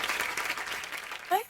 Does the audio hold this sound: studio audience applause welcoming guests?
yes